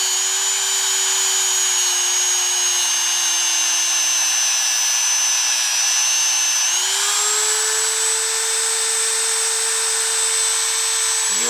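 Loud continuous high-pitched whine of a power polisher buffing the notch of an AR-15 trigger hammer with rouge, holding steady before stepping up in pitch partway through, with no voices.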